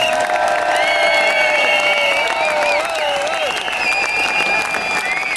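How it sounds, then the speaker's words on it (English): A large protest crowd outside a London court applauds and cheers continuously at close range, with whoops and shouted voices rising above the steady clapping. "Please give them a huge round of applause"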